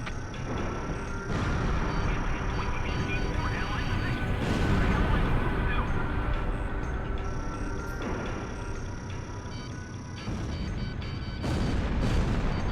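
Bombs dropped from a combat jet in Ace Combat Zero burst as dense, rumbling explosions, one after another, beneath steady roaring engine noise and constant game sound, with several louder booming swells throughout.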